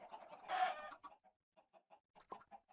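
Chickens clucking in the Minecraft video game, part of an automatic chicken cooker farm: a burst of squawking followed by a series of short, soft clucks, fairly quiet and with no talk.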